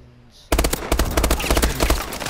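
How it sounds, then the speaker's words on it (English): An ARX 160 burst-fire rifle in Call of Duty Advanced Warfare fires loud, rapid strings of shots in quick succession, close and punchy, after a brief quiet start. "I believe it's this ARX 160. It's burst fire weapon, three bursts"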